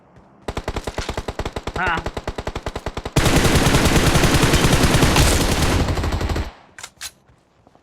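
Rapid automatic gunfire in the video game PUBG on the Erangel map, loud and close: a steady burst of evenly spaced shots, then a denser, continuous roar of fire before it cuts off, with a brief spoken word over it.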